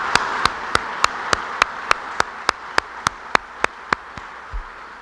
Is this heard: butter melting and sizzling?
no